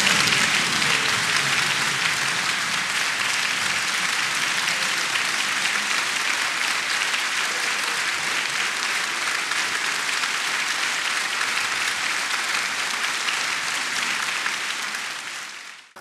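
Deputies in a national assembly applaud the naming of a vice-president of the Republic, a dense, sustained roar of clapping filling the hall at steady loudness before fading out at the end.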